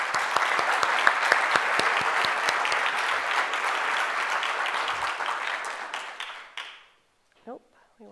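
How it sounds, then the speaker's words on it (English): A tech-event audience gives a sustained round of applause for presenting founders and startup companies, dense clapping that fades out after about six seconds, followed by a brief faint voice. "So let's give one more round of applause for all of them."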